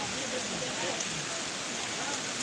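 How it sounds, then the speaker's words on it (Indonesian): Steady rain pours outdoors near an old mosque in Bayan during a traditional stick-fighting event, a dense, continuous hiss with no break, with faint voices underneath. "Ini hujan."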